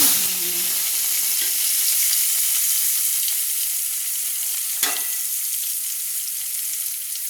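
Potato pieces fry in hot mustard oil in a kadai with a loud, steady sizzle throughout and a single sharp clink midway, no voices.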